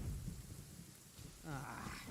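Rain and rolling thunder from a storm in Genshin Impact, a brief low rumble that fades and then swells again, with a faint voice-like sound near the end.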